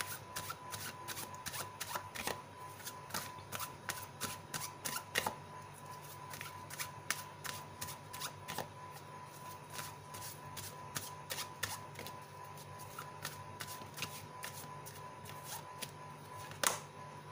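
Tarot deck being shuffled by hand, making rapid, faint, repeated riffling snaps and card flicks in a quiet room, continuing steadily with irregular bursts.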